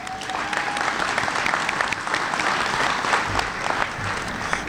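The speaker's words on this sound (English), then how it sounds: "Let's give the mayor a round of applause." Crowd applause for the mayor at a fresh market grand reopening, steady dense clapping from many people throughout, fairly loud and continuous with no break.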